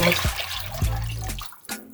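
Water is poured into a pot while chicken soup is being made, producing short splashing gushes with gurgling in between, close and moderately loud in a kitchen.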